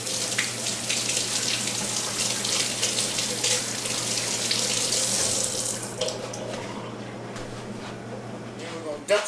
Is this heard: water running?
yes